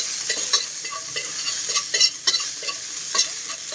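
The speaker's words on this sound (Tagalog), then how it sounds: "magigisa na tayo" Sautéing in a pan for ginataang tulingan with eggplant gives a loud, hissing sizzle, with frequent scraping and clanking of a spatula stirring against the pan.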